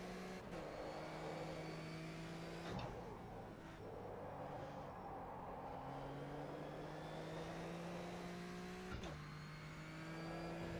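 Race car engine in a sim racing game dropping pitch under braking and climbing again through the first two turns, steady and close, with sharp gear changes and no talk.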